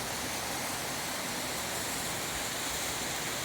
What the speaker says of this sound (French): avec une vue magnifique sur la cascade